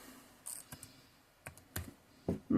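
A computer keyboard clicks out a few sparse, irregular keystrokes close by, quiet at first and then a quick louder cluster at the end.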